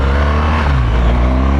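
BMW R 1200 GS motorcycle pulling away hard from a green light in Dynamic Pro mode, a loud close engine roar with strong low rumble as it accelerates, brief and intense.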